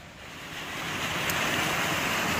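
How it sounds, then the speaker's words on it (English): Waterfall on Raush Creek in Pennsylvania, a steady broadband rush of falling water that swells slightly and then holds loud and continuous, with no voices. "waterfall coming through here."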